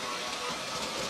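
A Hornby Dublo three-rail OO gauge 8F model steam locomotive runs on track with a steady, dense whirring and rattling hum, close and continuous, no talking.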